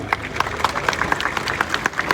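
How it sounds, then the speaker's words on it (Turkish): A crowd at the outdoor opening cortege of the Kırkpınar oil wrestling festival in Edirne claps in a quick, uneven rhythm, with a sustained tonal sound running beneath the claps. "Seyfettin Selim adına alkışlıyorum."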